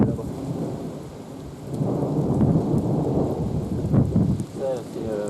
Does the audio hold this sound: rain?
yes